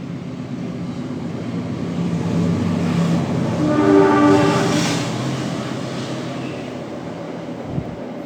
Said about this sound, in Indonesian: Sebentar ada kereta ya teman-teman ya.